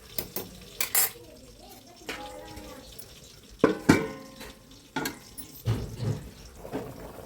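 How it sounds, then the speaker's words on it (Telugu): A metal lid goes onto a pot of fish curry amid clattering kitchen sounds: several sharp clinks and knocks of pots and utensils, close by, with someone speaking briefly between them. "కొద్దిగా సాల్ట్ ఇప్పుడు మూత పెట్టేస్తాను"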